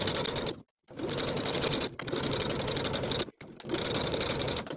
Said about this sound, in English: Top stitch along the bodice side of the garment, catching that seam allowance underneath with a 1/4 inch seam allowance.